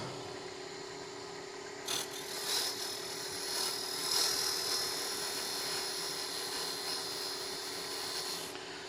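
Carbide scraper cutting wood, likely turned on a lathe, a continuous close rasping scrape with a faint machine whine behind, swelling and easing in intensity, no talk.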